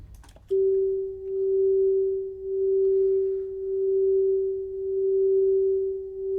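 Singing bowl tone looped into a sustained pure ring after a brief strike, steady and loud with gentle slow swells in volume, no voices.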